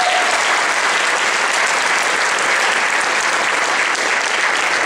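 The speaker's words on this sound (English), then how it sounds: "Give another nice round of applause." Loud, sustained applause from a large crowd, dense steady clapping that fills the whole stretch without pause.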